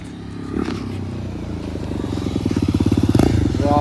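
A motorcycle engine revs hard outdoors as a rider prepares for a wheelie, its loud, close drone climbing into rapid pulsing throttle bursts toward the end.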